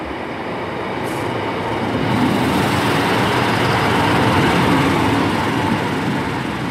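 An East Midlands Class 153 diesel unit arrives at Derby station, its rumbling engine and rolling wheels swelling steadily and filling the platform with sound, with no talk.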